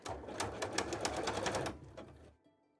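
A sewing machine stitches fabric for a cosplay piece in a quick, even run of needle clatter that slows and stops near the end, close and fairly quiet.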